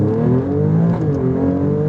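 Alfa Romeo Stelvio Quadrifoglio accelerating away on a race track, a loud, steady engine drone rising in pitch through a quick automatic gearshift, close and continuous.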